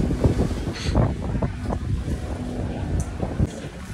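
Steady, rough wind buffets the microphone at a windy spot in Koh Norea, Cambodia, a continuous low roar with gusty swells and no voices.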